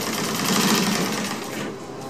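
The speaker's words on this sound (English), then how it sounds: "we'll get the aft edge of the Dodger side panel sewn on the back tack" Sewing machine with a large binder attachment stitching the edge of a dodger side panel, a close, steady rapid whirring rattle throughout, easing slightly near the end.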